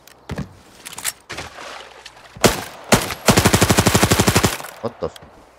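A Groza rifle fires in the shooter game Arena Breakout: a few single shots, then a long rapid automatic burst of evenly spaced cracks, followed by a few scattered clicks and shots, close and loud.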